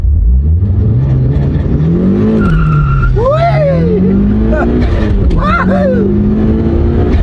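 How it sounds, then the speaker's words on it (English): A turbocharged Mitsubishi Evo revs hard, its pop-off valve making sharp whooshing bursts between gear changes, loud and close over a steady engine drone. "I can hear that pop-off valve going."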